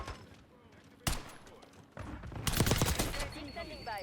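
Bursts of PP-919 submachine gun fire in the shooter Black Ops 6 battle royale, sharp rapid volleys starting and stopping with game effects and background noise between them.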